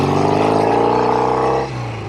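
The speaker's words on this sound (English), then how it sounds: "50 some odd year old motorcycle. Hot rod motorcycle, I might add." A 50-year-old hot-rod Norton Commando Combat 750 motorcycle engine pulls away, a steady close throaty drone that holds loud, then drops in pitch and level near the end as the rider shifts.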